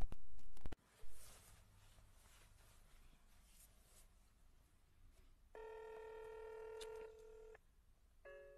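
A telephone handset clicks, then a dial tone drones, followed by a run of DTMF keypad beeps in quick succession and a final short tone, all fairly clear against faint room noise.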